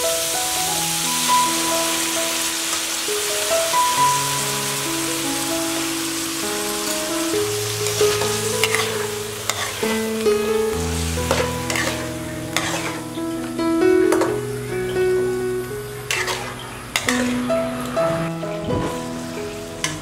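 Sour pork ribs being stir-fried in a pan, a steady loud sizzle with scraping and stirring strokes throughout, under background music and with no talk.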